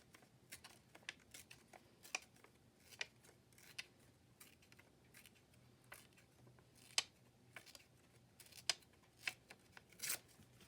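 Paper torn by hand in small careful pieces for card making, quiet crisp rips and rustles scattered across the stretch with a few sharper tears standing out, no talking.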